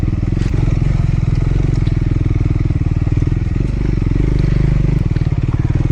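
A Triumph Scrambler 400x motorcycle rides over a rough patch of road, its engine throbbing loudly and rhythmically close by for several seconds without a break.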